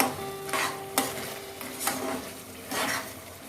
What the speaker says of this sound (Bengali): আর এটাকে আমি মিক্স করে নেব